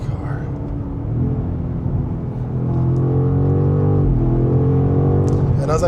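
A 2025 BMW M5 (G90) engine hums low and steady, then rises in pitch and grows louder as it accelerates, heard from inside the car.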